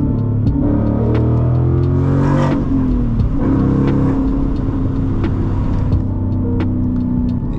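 A Ford Mustang GT S550 engine runs loud and steady with a deep rumble, rising briefly in a rev near the start, then holding a continuous throaty drone throughout with no talk.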